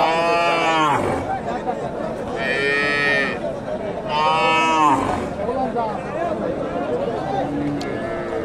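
Cattle moo repeatedly at a busy cattle market, three loud, drawn-out calls close by in the first five seconds over constant crowd chatter and background voices.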